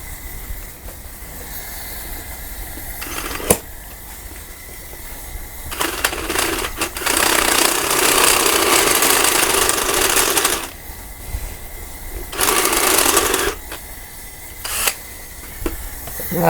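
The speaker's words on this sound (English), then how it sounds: "All right, we got our drill" A cordless drill bores into a part for the front brakes of a 1973 Harley Sportster, running in several separate bursts of whirring with quiet gaps and small clicks between them, close by.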